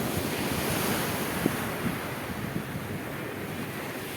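Ocean surf at Digha beach rolls in a steady, continuous wash, with wind buffeting the microphone and an occasional faint knock, loud and close, with no voices.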